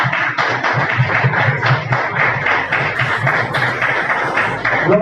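A church congregation claps louder and harder, a loud, close run of steady rhythmic clapping with a low hum beneath it, clear and unbroken throughout.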